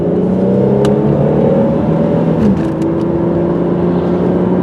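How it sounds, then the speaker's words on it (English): A 2000 Pontiac Grand Prix GT engine hums loudly and steadily as it pulls through the gears, with a brief dip in pitch mid-way as it shifts. No one speaks. "Right through the gears, no problem."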